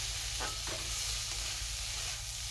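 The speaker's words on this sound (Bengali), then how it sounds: "বাঁধাকপি ভাজাটা বসিয়ে দিয়েছি বাঁধাকপি আর আলু কেটে দিয়েছি" Shredded cabbage and diced potato frying in a pan, giving a steady, dense sizzle with faint stirring scrapes, close up and without speech.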